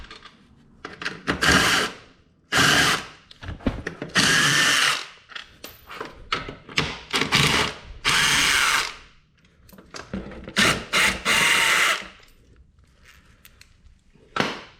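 A power tool whirs in repeated loud bursts of a second or two each, separated by brief pauses, while a nut is removed from a vehicle's OEM footwell, up close and with no talking.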